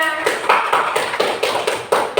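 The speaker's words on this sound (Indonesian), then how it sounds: "tepuk tangan dulu buat temennya" Children in a classroom clap for a classmate, a quick run of about eight sharp, evenly spaced claps, close and fairly crisp, with no talking.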